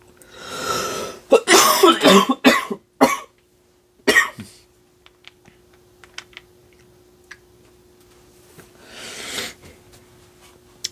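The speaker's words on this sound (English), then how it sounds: "I'm still getting over this cough" Several coughs and throat-clearing bursts from a person getting over a cough come close and loud in the first few seconds, then a quieter stretch with small clicks and a faint hum, and another cough-like burst near the end.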